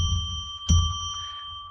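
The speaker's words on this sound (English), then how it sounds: "I'm going to ring a bell 3 times now to declare sacred space" A ritual bell rung on a live psychic radio show gives a bright metallic strike over a bed of lingering, sustained ringing tones, close and fairly loud.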